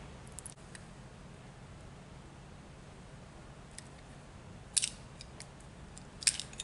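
Insulation being stripped from an electrical wire ahead of a split-bolt connection, heard as a few faint, sharp snips and clicks over quiet background hiss, with two clearer cuts near the end.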